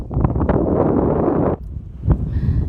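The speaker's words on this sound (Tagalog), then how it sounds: "Mahangin kasi guys dito." Gusts of wind buffet the microphone in heavy low rumbling bursts, dropping briefly before another blast returns.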